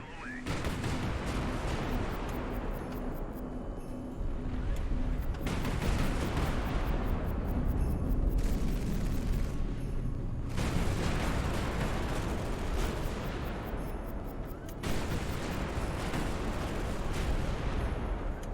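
Missile launches and gunfire in the naval combat game High Fleet pound out as dense, heavy bursts of explosive roar, coming in several long waves separated by brief drops in intensity.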